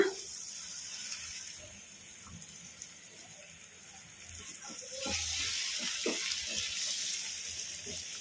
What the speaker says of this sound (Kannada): ಈ ನೀರು ಹಾಕಿ ಕಲಸ್ಕೊಂಬಿಡೋಣ